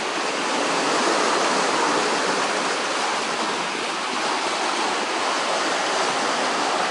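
Following seas surge around a Leopard 45 sailing catamaran heading upwind under a second reef off La Palma in the Canary Islands: a loud, steady, unbroken rush of water with no voices.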